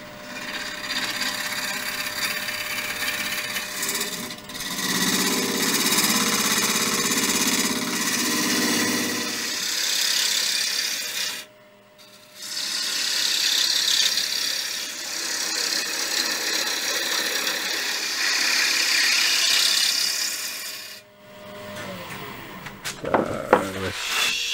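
Wood lathe rough turning a beech bowl, a steady hissing, scraping cut as the tool bites the spinning wood, loud and continuous with two brief pauses and a final few knocks.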